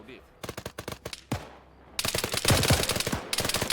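Gunfire in the Arma 3 video game during a foggy hostage rescue: a handful of separate sharp shots, then from midway a loud, dense burst of rapid automatic fire that barely pauses.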